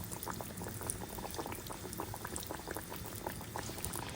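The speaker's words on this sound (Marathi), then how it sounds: "पॅटी आपण या तेलामध्ये टाकलं उका उकळतं तेल आहे आणि हे तळून घेणार आहोत आपण" A veg burger patty bubbles vigorously in boiling oil, a steady dense sputtering and crackling that continues unbroken for a few seconds.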